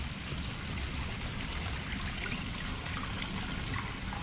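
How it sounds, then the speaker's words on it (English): Water runs steadily from the Congressional Water Fountain in DC, a soft continuous trickle and splash heard up close with no talking. "they usually come down here to have a drink here at the Congressional Water Fountain"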